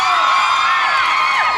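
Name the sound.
crowd shouting on command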